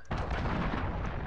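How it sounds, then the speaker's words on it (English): A cruise missile strike in a multiplayer shooter video game lands as a loud, dense blast that erupts suddenly and rolls on as continuous rumbling explosions throughout. "Fucking cruise missile."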